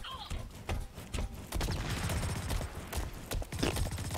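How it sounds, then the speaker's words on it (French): Gunfire in the online shooter Blacklight Retribution, a dense run of sharp reports and clatter that fills the stretch, heard loud and close with no pauses. "J'ai entendu des coups de feu."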